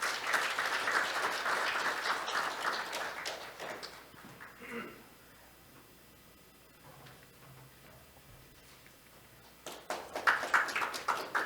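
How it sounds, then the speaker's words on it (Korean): Audience applause fills a Korean business forum hall as a company CEO is welcomed to the stage, steady clapping for several seconds before fading into a quiet pause, then a fresh burst of clapping near the end. "박수로 환영해 주시기 바랍니다."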